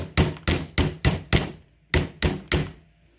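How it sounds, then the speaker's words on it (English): Eight sharp hammer blows strike in a steady rhythm, five then a short pause and three more, each ringing briefly; the polymer face of a hammer is driving an XS Big Dot sight into a pistol's dovetail, loud and close with no talk. "I'm always going to start with the polymer side of my hammer here, and I'm just going to start hammering away"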